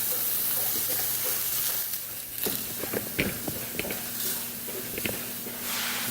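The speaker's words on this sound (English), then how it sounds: "Oh, listen to that sizzle." Frozen hamburger patties sizzle in a pan with a steady crackling hiss, broken by clatters and scraping of utensils against the pan partway through, close and moderately loud.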